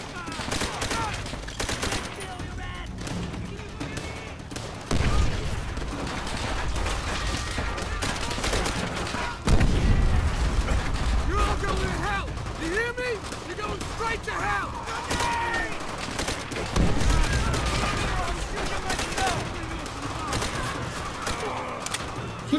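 Sustained gunfire and fusillades fill a Call of Duty: World at War battle at Shuri Castle, dense and loud throughout with bursts of heavier shots, while voices talk over the combat.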